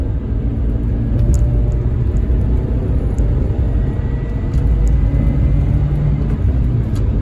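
A 2006 Pontiac Vibe engine drones loudly from inside the cabin, a deep rumbling roar that holds steady as it accelerates in third gear at 3,000 RPM around 40 mph, with road noise underneath.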